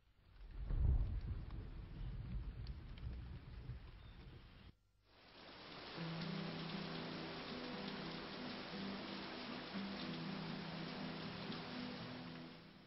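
Steady rain falls in a dense, even hiss that starts after a brief gap and carries on unbroken, preceded by a low rumbling swell.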